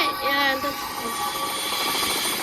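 Helicopter in the video game Dude Theft Wars, a steady rotor and engine drone running throughout, fairly loud and continuous, with a brief whining tone near the start.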